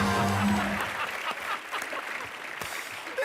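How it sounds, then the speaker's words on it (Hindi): Studio audience of a comedy talk show breaks into applause, a dense patter of clapping that starts over a fading musical tone and carries on steadily. "ठोको तालियां।"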